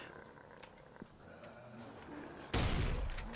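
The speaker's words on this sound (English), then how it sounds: "Luckily, our shotgun will save the day." A shotgun blast in the Attack of Mutants video game erupts loud and sudden partway through, following a stretch of quieter game ambience with faint scattered noises.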